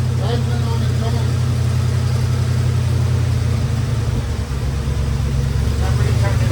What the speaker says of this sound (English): We're just letting it run. We're letting it idle. This is the first time in 25 years. Idling on its own.